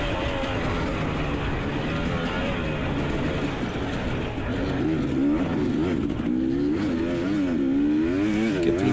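A four-stroke off-road motorbike engine revving hard during a race at the Buckhorn GP, loud and close, with rising and falling pitch as the throttle is worked continuously.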